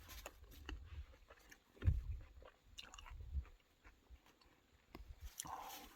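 Someone bites into a fresh, unfertilized home-grown tomato outdoors on a farm: a soft close crunch, then quiet wet chewing with faint squishy bites, low and near.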